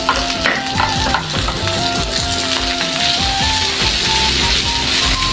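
Capsicum frying in a pan for Gobi Manchurian, a loud continuous sizzle with repeated scraping and stirring strokes of a spatula against the pan throughout, and no talk.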